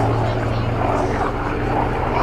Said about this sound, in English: This is a Hurricane 2C